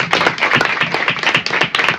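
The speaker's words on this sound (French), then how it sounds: "On l'applaudit encore très fort." An audience at a French-language school quiz final claps loudly and steadily, a dense run of overlapping hand claps with no talk over it.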